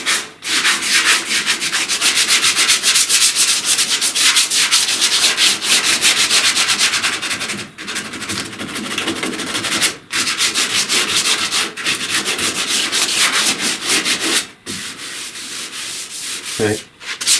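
Hand sanding body filler on a truck cab corner with sandpaper: a loud, continuous rasping scrub of back-and-forth strokes, broken by a few short pauses, with no talking.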